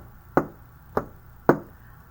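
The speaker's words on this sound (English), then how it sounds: "That's the sound even of crystals knocking together" Crystals knock together in three sharp, evenly spaced taps, close and clear over a quiet background with no talking.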